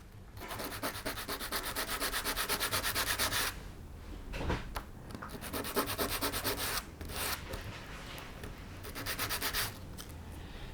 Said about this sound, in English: So I'll give it a bit of a sand. And this sandpaper is supplied with the kit.